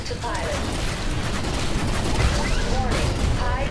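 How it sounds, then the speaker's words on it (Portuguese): Gunfire crackles in a Titanfall Attrition match on the Runoff map, a loud, dense barrage of rapid shots and mechanical clatter sustained throughout. "eu ganhei um monte de tiro nas costas"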